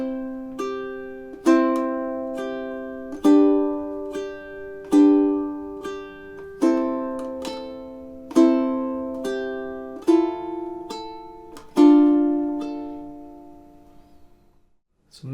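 A ukulele plays the opening two measures of a song, a steady run of plucked notes and strummed chords with regular attacks that ring and decay, ending on a sustained note that fades out, with no voices.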